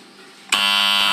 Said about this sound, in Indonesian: Kamu setting sampai dia turunin sampai dia alarm bunyi.